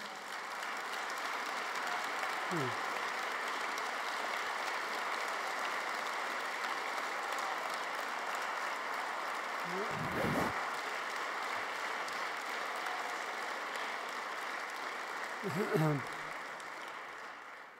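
At a university athletics hall of fame ceremony, the audience applauds the players with a steady, moderate wash of clapping throughout, broken by a few brief voices and a bump near the end.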